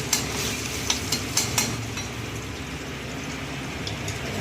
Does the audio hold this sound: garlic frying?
yes